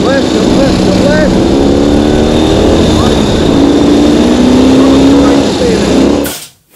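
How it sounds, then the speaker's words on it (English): A Ural motorcycle with a sidecar races fast off-road, its engine buzzing loud and close with rising and falling revs and steady wind noise, then cutting off abruptly near the end. "riding a motorcycle with a sidecar fast off-road is an absolute thrill"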